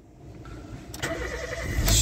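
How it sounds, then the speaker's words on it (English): A BMW engine being started from a jump pack: a brief cranking whir that rises as the engine catches and builds toward a running idle, fairly close and moderately loud, with no talking. "Let's give it a proper test and see if it will start."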